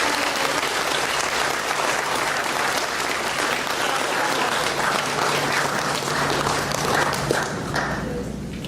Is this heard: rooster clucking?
no